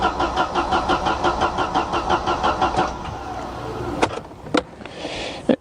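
A Mercedes 190E with an M102 engine and a broken fuel pump cranks in a steady, rhythmic chug for about three seconds, then coughs and catches briefly with a few sharp bursts and uneven running.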